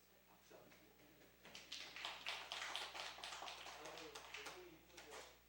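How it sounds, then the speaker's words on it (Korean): A church congregation applauding during an early-morning revival service: a burst of scattered hand claps that swells into steady clapping, then fades, fairly soft and at a distance in a reverberant hall. "박수 한번 주세요"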